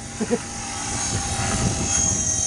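A DF60 400-size RC helicopter flying in strong wind gives off a steady motor and rotor whine with wind rumble behind it, a couple of brief thumps near the start, and voices faintly under it.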